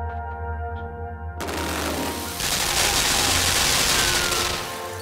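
Machine guns in the video game Limbo suddenly open up after a quiet tonal opening, becoming a dense, sustained roar of rapid fire that grows louder and stays steady.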